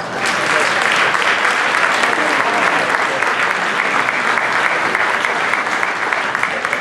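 An audience at a Toastmasters club meeting breaks into steady, sustained applause, a dense wash of many hands clapping at even loudness throughout.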